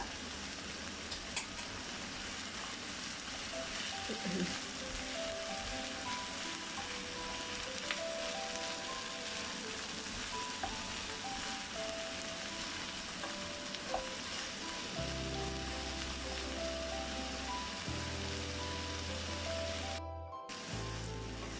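Beans go into a hot pan for vegan burritos: a steady, close sizzle of frying continues throughout, with stirring scrapes now and then and a low hum near the end, and no one talking.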